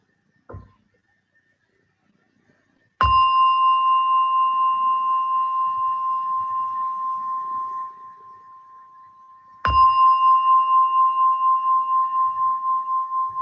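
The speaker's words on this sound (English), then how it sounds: "as you hear the gong, slowly come out from meditation" A meditation gong is struck twice, several seconds apart. Each strike rings out clear and sustained, fading slowly, with quiet around it and a small tap just before the first strike.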